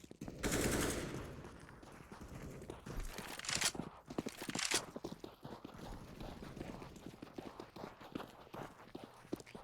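Rapid gunfire bursts and single shots from a Counter-Strike match on the Dust2 map during a professional South American qualifier, crackling in quick clusters with footsteps, under game ambience and caster commentary.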